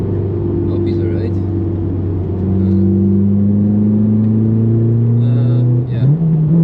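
A Honda S2000 fitted with an F22 engine revs on the Nürburgring, a loud, close engine note climbing steadily in pitch before a quick shift near the end.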